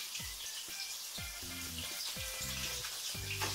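A fish burger patty fries in a pan, giving a quiet, steady sizzle. Low tones rise and fall over it at intervals.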